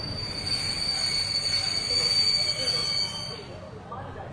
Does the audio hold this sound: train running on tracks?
yes